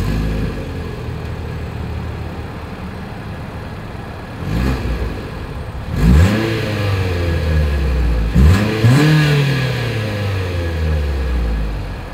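Single-outlet exhaust of a 2022 Mitsubishi Outlander Sport idles low and steady, then is revved twice in quick succession, each blip rising and falling back to idle, loud and close.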